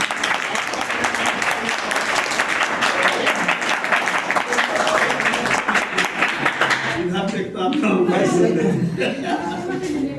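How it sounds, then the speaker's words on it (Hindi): Studio audience applause for a contestant on a Hindi quiz show, dense steady clapping with some chuckling, rising again near the end as a host begins talking over it. "एक बार फिर से खेल में ताली बजाएं।"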